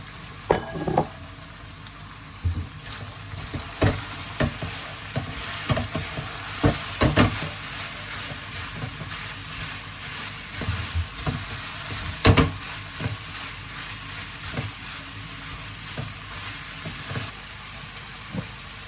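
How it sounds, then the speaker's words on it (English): Carrots and potatoes tumble into a frying beef filling for Nigerian meat pie, giving a steady sizzle with repeated stirring scrapes and clinks that grow louder in bursts, with no talk. "I'm going to add carrot and the potatoes."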